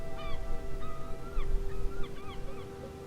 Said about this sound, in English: the sounds of a few seagulls overhead.